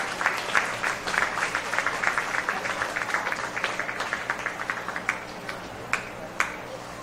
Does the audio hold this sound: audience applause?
yes